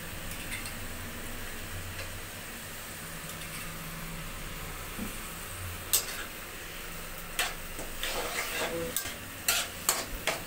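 Chopped tomatoes with ginger paste stirred and frying in a home kitchen pan, a low steady sizzle under scattered sharp scraping and tapping of the stirring spoon, growing busier toward the end.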